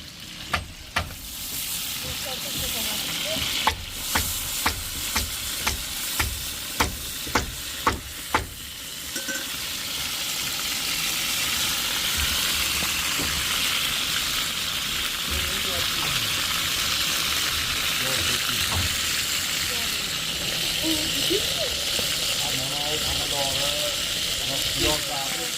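Food sizzles and hisses loudly in a cooking pot while being stirred, with a run of sharp utensil knocks at first, then a continuous fry; voices talk over it.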